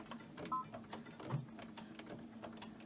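Sewing machine stitching a pillowcase seam, a quiet steady rapid mechanical whir with a faint regular needle rhythm, heard close and alone.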